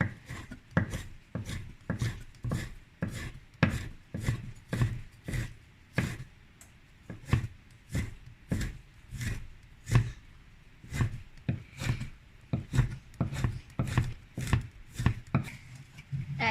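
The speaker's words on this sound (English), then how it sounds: "about a centimeter of ginger. Cut them into slices" A knife cuts about a centimeter of ginger into slices on a board in a home kitchen, giving a steady run of sharp, close chopping knocks roughly once or twice a second, alone without talk.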